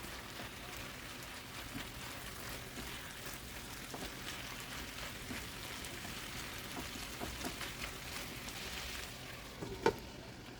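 Beef with steak seasoning and garlic salt, cooking for a Mexican stew with potatoes, sizzles steadily in the pot while being stirred, with scattered crackles and utensil scrapes and a sharp clink near the end.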